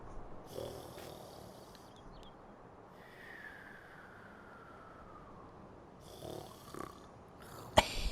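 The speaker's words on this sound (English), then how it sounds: "You can hear him snoring every now and then." Faint, low snoring breaths of a troll in Farming Simulator 19 rise and fall now and then beneath a quiet, steady background hum, with no talking.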